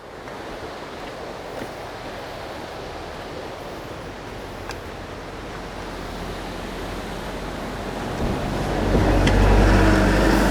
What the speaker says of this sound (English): It's a pretty popular waterfall, as you're about to see, given its ease of access